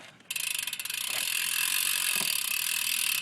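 Odyssey Hazard BMX complete wheel with its hub freewheeling, giving a loud, rapid, steady ratchet buzz of clicking pawls that starts abruptly and runs on without pause.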